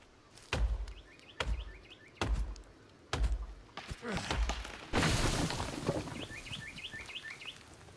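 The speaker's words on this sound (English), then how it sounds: "at least while chopping down trees" Chopping trees in Sons of the Forest: four evenly spaced heavy axe thunks ring out in a steady rhythm, followed by a long crackling crash of the trunk coming down, with birds chirping softly in the forest background.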